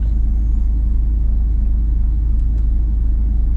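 A Mini John Cooper Works driving up a slope on a track day, its engine a steady low rumble heard from inside the car, loud and continuous with no talk.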